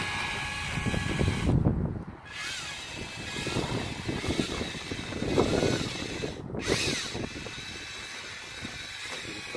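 Abrasive sanding of a diamond cut alloy wheel during a DIY repair, a rough whirring scrape that swells and fades in repeated passes, close and alone.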